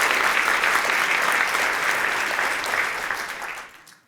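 Sustained applause from a crowd, steady and full for a few seconds before tapering off and fading out at the end.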